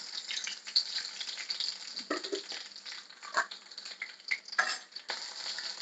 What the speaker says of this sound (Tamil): கடுகு வெந்தயம் போட்டு தாளிச்சுக்கலாம்.